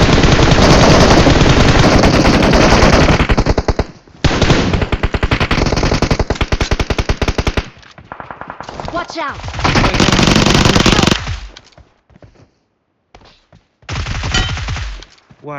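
Close, loud automatic gunfire in PUBG Mobile, long rapid bursts of shots with short pauses between them, then sparser bursts toward the end.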